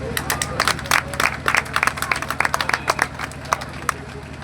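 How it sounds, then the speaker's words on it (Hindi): Audience applause at a Dr. Bhimrao Ramji Ambedkar birth anniversary event, a dense run of clapping with sharp irregular claps over crowd chatter and speech, fairly near and steady throughout. "बजे ताली।"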